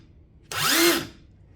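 A mid-torque cordless impact wrench trigger-pulled once, its motor and anvil whirring up in a brief, rising spin lasting under a second before cutting off, close and alone.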